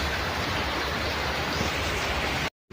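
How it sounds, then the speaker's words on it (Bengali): Heavy rain pours down steadily on a rainy day in Bengal, a dense, loud hiss of water that fills the whole clip before cutting off abruptly near the end. "আর দেখো এত জোরে বৃষ্টি চলে এসছে"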